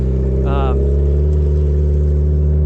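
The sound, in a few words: $60,000 go-kart driving on frozen lake rally course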